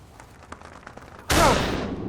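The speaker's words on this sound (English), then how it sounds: "That was a hell of a shot" A single loud gunshot rings out close by after a quiet stretch of faint rustling, its blast rolling and decaying over the next moment, fired at birds flushed from cover.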